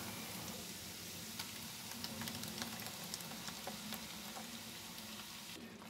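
Spinach sizzles and fries in a pan for palak paneer, a steady close crackle running the whole time with a few sharper pops and no voices.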